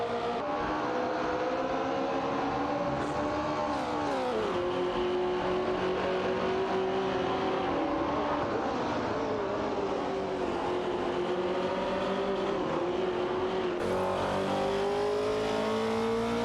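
Race car engines in a video game race, among them a Holden Torana A9X and a Hot Wheels car, drone continuously with rising and falling revs as cars accelerate and pass, layered and sustained throughout.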